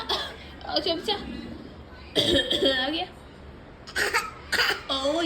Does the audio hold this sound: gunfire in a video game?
no